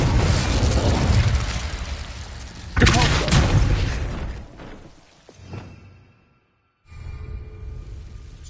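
Hogwarts Legacy blasting spell explosion with whooshes and booms, a loud burst near the start that fades, a small pop later, then softer game ambience resumes.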